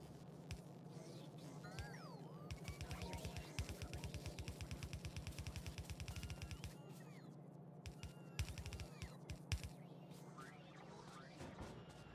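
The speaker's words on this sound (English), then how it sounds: "I heard a gunshot?" Video game gunfire, rapid bursts of automatic shots with a few single cracks after, moderately loud over a steady low machine hum.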